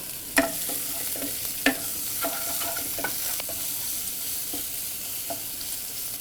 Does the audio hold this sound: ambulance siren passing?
no